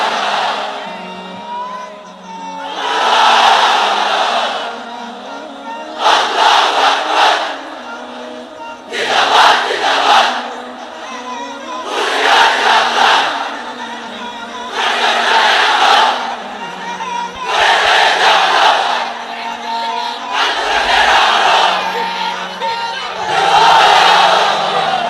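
A large crowd in a pandal at an Islamic sermon gathering roars takbir in unison, about eight loud, rhythmic bursts of massed shouting with a leader's voice calling between them.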